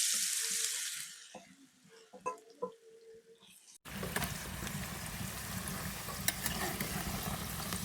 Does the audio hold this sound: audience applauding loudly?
no